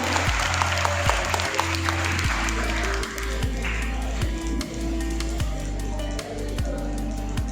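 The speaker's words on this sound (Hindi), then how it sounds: "जोरदार तालियां पर आशीष भैया के लिए।" Students clap together at a Teacher's Day gathering in a coaching centre classroom, a dense, steady burst of applause that fills the room for several seconds, with low rhythmic thumps running beneath it.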